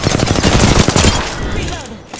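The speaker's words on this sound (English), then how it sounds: "Taking fire." Rapid, loud automatic gunfire in the Apex Legends battle royale shooter, dense bursts of shots up close, fading toward the end, with game voice callouts mixed in.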